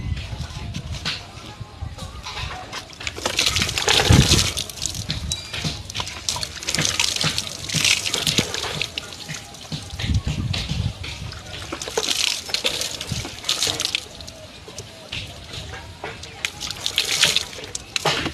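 Water is scooped and poured over a body while bathing, giving repeated splashes and trickles with dripping, fairly close and steady throughout, with a voice talking at times.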